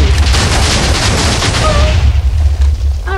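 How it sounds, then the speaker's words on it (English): A loud, close bomb blast in Minecraft, a deep booming roar that fills the first seconds and slowly trails off. "It's a bomb."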